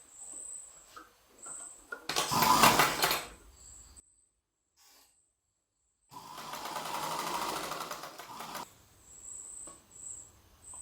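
A sewing machine stitches baby dress fabric in two close bursts, a fast whirring rattle of a couple of seconds each, separated by pauses and quiet handling sounds.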